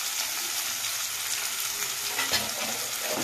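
Onions frying in oil until golden brown, a steady dense sizzle with occasional soft stir clicks, close and continuous with no talking.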